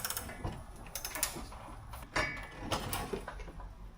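A spanner works on a rusty bumper bolt on a Lincoln lowrider, giving quiet, irregular metallic clicks and ratcheting scrapes close by, with scattered clanks and no talk.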